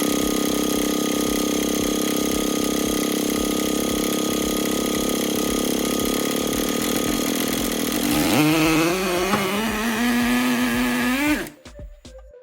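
A Traxxas Nitro Stampede RC truck's small nitro engine, fitted with an EZ Start system, buzzes loudly at a high steady pitch, then revs up and down in rising sweeps before cutting out abruptly near the end.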